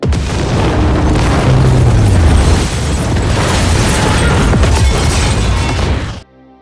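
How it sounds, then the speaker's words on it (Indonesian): A bomb detonates in an action film scene, a heavy booming blast with a long rumbling roar and crackling debris that fills several seconds at high volume before cutting off abruptly. "Lisa memutuskan untuk menekan pemicu bom agar meledak bersama dirinya."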